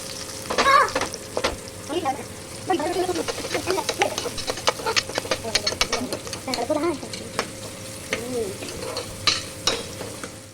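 Onions sizzle in a hot pan for palak rice while a spatula scrapes and stirs in repeated strokes, the crackling frying steady underneath.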